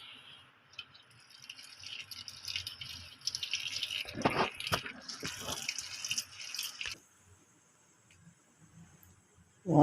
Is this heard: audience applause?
no